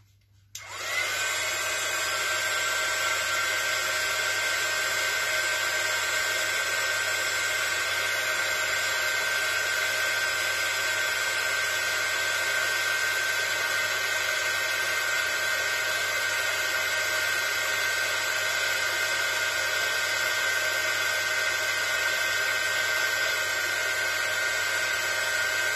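A heat embossing tool blows hot air over embossing powder on a planner page, giving a steady, loud, continuous whirring hiss that runs unbroken from start to finish with no talking.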